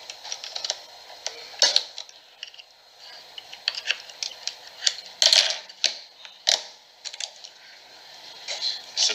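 Clicks, ticks and small plastic knocks as an ammeter is unplugged, handled and moved on a bench in a school electricity demonstration, close and irregular with no talk.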